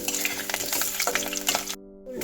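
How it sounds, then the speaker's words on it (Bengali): A medium-sized potato cut into small cubes fries in hot oil, sputtering and crackling in quick bursts over a close, busy sizzle before cutting off briefly near the end. "একটা আলু মিডিয়াম সাইজের আলু কেটে ডুমো ডুমো করে কেটে নিয়েছি সেটাই ভেজে নেব প্রথমে"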